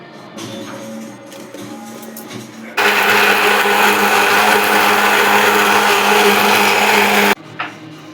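A mixer grinder whirs loudly for about four and a half seconds as it blends in a large jar, a steady high-pitched motor roar that starts abruptly and cuts off, with quieter kitchen noise before and after.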